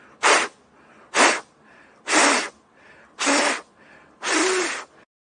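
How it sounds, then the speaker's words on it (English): Five short, forceful breaths blown through a face mask at a lit match, each a loud, close, hissing puff with brief quiet gaps between them. "try to blow out the match through the face mask"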